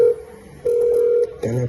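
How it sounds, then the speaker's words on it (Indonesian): Telephone tones sound up close as a call disconnects: a steady electronic beep, a pause, a second beep, then a warbling tone at the end. "Telepon putus."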